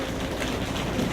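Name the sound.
audience imitating rain sound with hands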